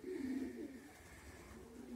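Racing pigeons coo steadily in low, soft repeated phrases close by, with a faint background hum and no talk, the day after a race.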